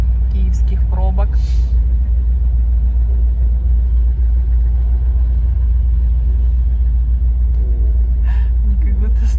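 A 1965 ZAZ-965 Zaporozhets humpback car drives through evening traffic jams in Kyiv, its engine a constant loud low drone throughout, with brief honks and squeals from surrounding traffic.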